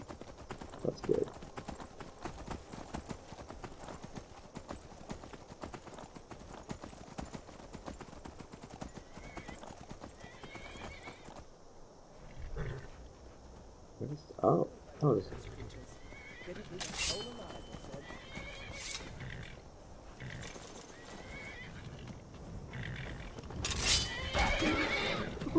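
A horse's hooves clip-clop steadily in the Skyrim video game, with a few neighs and whinnies rising over the galloping, while someone talks throughout.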